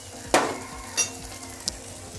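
Ginger and garlic paste frying with chopped onion, giving a continuous sizzle punctuated by three sharp spatula or utensil clinks against the pan, with no speech.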